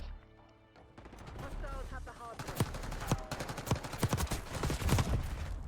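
Rapid gunfire from the video game Black Ops 6 in ranked play, dense bursts of shots and impacts running through most of the stretch, loud and close, with a few game sounds in the first second.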